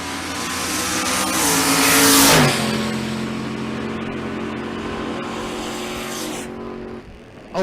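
Chevrolet Silverado making a drag racing run in the left lane at a drag strip, its engine roaring loud and rising to a peak, then dropping in pitch and carrying on as a sustained roar that fades near the end.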